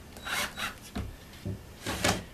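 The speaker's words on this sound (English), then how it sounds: "what I'm going to be doing first is screwing one screw in on one of the posts" A screw is driven into a pallet-wood post for a milking stand, with several short rasping, grinding bursts of wood friction and brief pauses between them, heard up close.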